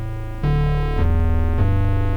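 A software synthesizer on a Linux system plays a steady, buzzy sustained tone that steps through a few pitches, its harmonic timbre shifting as the wave shape changes. It sounds loud and continuous with no pauses.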